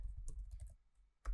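Quiet clicking of computer keys typed in a short burst, then a pause and a final louder cluster of keystrokes, close to the microphone.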